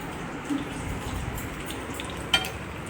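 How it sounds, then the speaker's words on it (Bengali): Steady sizzling of fritters frying in hot oil, close and continuous, with a couple of faint utensil clinks. "আমি এখানে বড়া ভাজছি"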